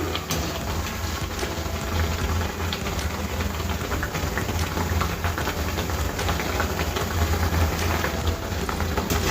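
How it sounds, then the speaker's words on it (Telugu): Corn garelu (makka garelu) deep-frying in hot oil as they are flipped, a steady dense sizzle and crackle running throughout at an even, moderately loud level, with no voices. "ఇలా ఇంకో సైడ్ తిప్పేసుకుంటే ఈక్వల్గా వేగుతాయి"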